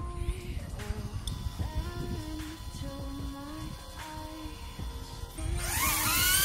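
A DJI Avatar FPV drone launched from the hand, its motors humming steadily with whining tones before spinning up into a loud, rising rush near the end.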